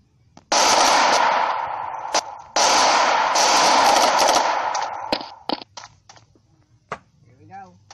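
Gunfire in the shooter game Special Force Group 2, a long loud burst of sustained automatic fire, a pause, then another extended burst, trailing off into scattered single shots.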